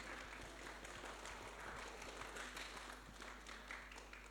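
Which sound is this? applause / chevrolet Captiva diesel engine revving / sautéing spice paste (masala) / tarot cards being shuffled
applause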